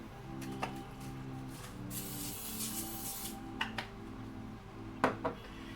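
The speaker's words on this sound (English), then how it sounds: "And then I'll spray the top of it too." Cooking spray hisses onto parchment paper in a baking pan in one long, close burst, framed by small clicks and rustles of the can and paper beneath a faint steady hum.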